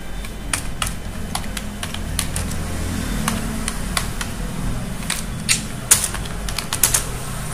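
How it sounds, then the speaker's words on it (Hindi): A name typed on a mobile phone's keyboard, a steady run of quick, crisp taps over a constant low hum, fairly close and without talk. "आप केवल अंग्रेजी में टाइप करते चले जाओ"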